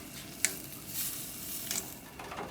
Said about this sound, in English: Got a hard sear going on here. I'm just going to flip my steaks.